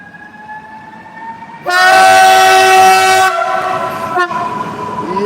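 A train horn blasts loudly for about two seconds as a train rumbles past close by, its steady roar continuing after the horn stops.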